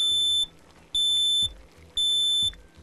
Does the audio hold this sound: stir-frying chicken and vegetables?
no